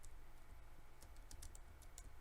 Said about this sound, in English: Here I am using my WASD keys.